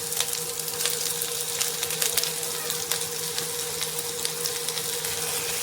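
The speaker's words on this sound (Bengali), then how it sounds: "তো পেঁয়াজটা এখানে একটু ভালো করে ভেজে নেব" Chopped onion and green chili sizzle in a pan of oil with black cumin seeds, a steady close crackle and hiss with scattered pops and a faint low hum underneath, no voices.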